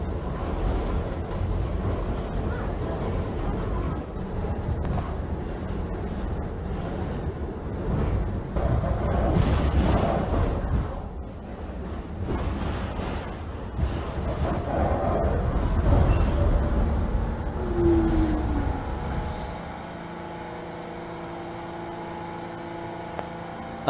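Simulated New York City subway N train running in the Trainz Simulator 2012 game, a continuous rumbling rolling noise with wheel and track roar that eases into a quieter hum with steady tones near the end.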